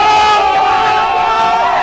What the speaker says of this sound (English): Can I get a ooh sound effect?